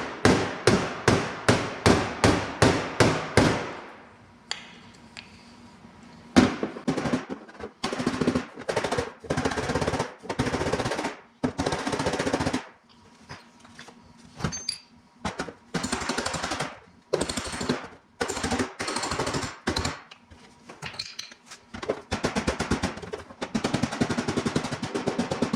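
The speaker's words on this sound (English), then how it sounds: "I want to kind of bring that metal down to put more pressure down here. So we'll hammer kind of a downward motion." A hammer pounds a dent out of sheet metal, starting with a fast, even string of sharp metallic strikes, then continuing in irregular bursts and pauses of loud, close blows.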